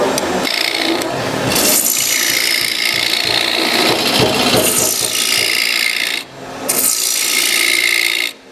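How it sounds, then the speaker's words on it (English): A wooden bowl has its inside carved out with a tool, giving a loud, continuous rasping scrape with a brief pause near the end. "So now we take the inside of the bowl out."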